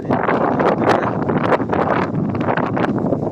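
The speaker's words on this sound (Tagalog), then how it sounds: "Lakas po yung hangin dito eh." Strong mountain wind roars and buffets the microphone continuously, a loud rumbling rush with gusty surges throughout.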